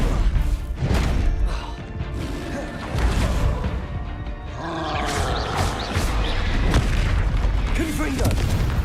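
Confringo explosive curse blasts in Hogwarts Legacy, heavy booming crashes and roaring rumbles repeating over several seconds amid game combat noise, with a voice talking over it.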